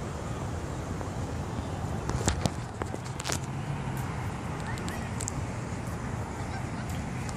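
Ducks on a park pond give a few short honking calls around the middle, set against steady outdoor background noise with faint footsteps.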